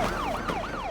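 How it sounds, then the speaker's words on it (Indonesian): An ambulance siren wails as the ambulance arrives in a Squid Game Season 2 scene, with a rising and falling sweep repeating about three times in under a second, loud and continuous with no talk. "momen itu terganggu ketika sebuah ambulans tiba"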